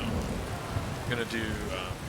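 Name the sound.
rain in the video game Skyrim (modded Wildlander)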